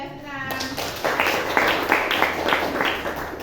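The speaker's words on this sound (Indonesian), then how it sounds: "tepuk tangan untuk 12-6" A classroom of students claps together for a class group, a dense patter of many hands that swells in quick pulses after a brief spoken word from a teacher.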